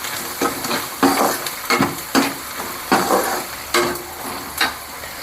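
Onion and garlic frying in a pan for a village-style drumstick kuzhambu, a loud close sizzle punctuated by repeated scraping stirs and occasional utensil clinks against the pan.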